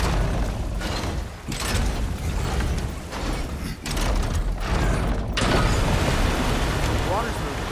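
In God of War Ragnarok, a jammed wheel mechanism grinds and creaks as it turns, a dense, continuous mechanical rumble with rushing, rain-like noise and a few heavy thuds that dip and return.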